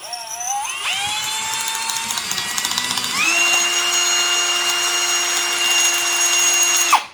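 A power drill bores through a steel bolt, starting with a rising whine and then holding a loud, steady high-pitched grind that shifts pitch midway and cuts off abruptly at the end.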